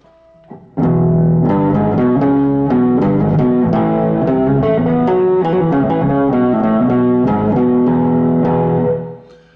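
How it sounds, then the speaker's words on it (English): A heavily driven electric guitar through a Bad Monkey overdrive pedal plays a fast run of distorted notes, loud and sustained, then fades out at the end. "And then I'll turn on the Bad Monkey pedal."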